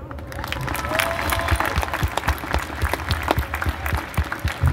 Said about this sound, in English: Please give a big round of applause for the student and the reflections.